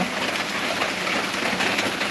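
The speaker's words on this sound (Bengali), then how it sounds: "প্রচুর বৃষ্টি হচ্ছে" Heavy rain pours down steadily during a prolonged downpour outside a shop, a dense, continuous hiss with no let-up and no voices.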